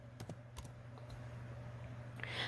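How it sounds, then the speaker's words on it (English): Someone types quickly on a home computer keyboard with irregular light clicks, quiet and close, and a steady low hum sits underneath. "I'm going to type that in"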